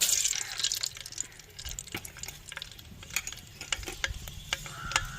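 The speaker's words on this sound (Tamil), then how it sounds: "எண்ணெய் சுடாரிச்சுங்க வெந்தயம் போட்டுக்கிறோம்" Fenugreek seeds hit hot oil for a fish curry and sizzle in bright, crackling bursts, close and lively, with sharp pops and spits scattered through a continuous hiss.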